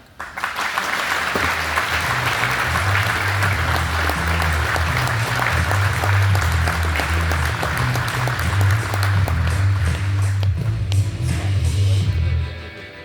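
An audience applauds steadily to welcome General Lutton at a nuclear triad symposium, a dense, even wash of clapping that holds for about twelve seconds before tapering off.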